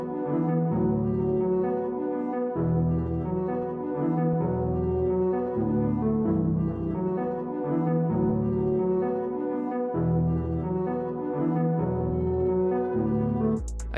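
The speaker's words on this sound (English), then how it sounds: "First sound I got is this pad from Contact, and it sounds like this." A Kontakt pad plays in a beat loop, with sustained warm chords that shift in a steady repeating pattern under a thick low-end layer. It is heard alone and continuously, with a brief bright burst at the very end.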